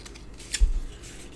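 A pair of scissors gives one short, crisp snip while trimming a small piece of card stock for a handmade card, close by in an otherwise quiet room.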